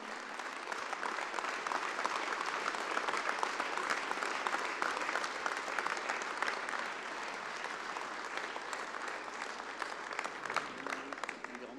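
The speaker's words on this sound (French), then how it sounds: "je vous demande de l'applaudir très très très fort" Applause for an award winner at an agricultural show, a sustained crowd of many hands clapping together, dense and even throughout, heard from a moderate distance and fairly quiet.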